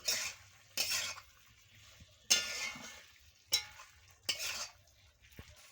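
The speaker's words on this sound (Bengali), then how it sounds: "এবার ধনে পাতাটা দিয়ে ভালো করে নাড়িয়ে নেবো" A spoon stirring a vegetable curry of cauliflower stems, eggplant, potato and ivy gourd with coriander leaves in a pan, in four or five separate scraping strokes with soft sizzling and quiet gaps between them.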